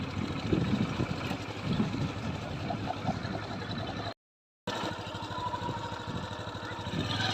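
A motorcycle engine drones steadily throughout, rough and continuous, with a short silent break partway through.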